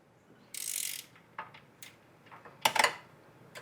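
A ratchet clicks on a bolt while the back is removed from a Rascal GT Cruiser mobility scooter: two short bursts of quick clicking, faint and close in an otherwise quiet space.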